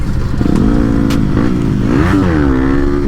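A motorcycle revs loud and close while popping a wheelie on a road, its engine note rising and falling in a sustained, steady roar with no voices.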